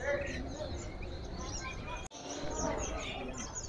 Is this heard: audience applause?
no